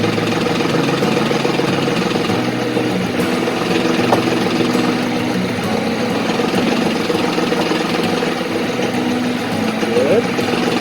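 A tractor PTO spins the hydraulic pump of a Flexi-Coil post pounder, giving a steady, loud mechanical drone and engine hum that continues evenly throughout.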